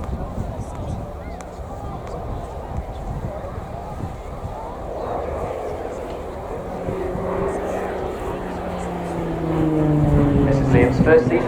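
A Tucano T1 turboprop trainer flying a display pass at an airshow, its engine drone rising and swelling with a falling pitch sweep as it passes close, growing loudest near the end over steady crowd noise.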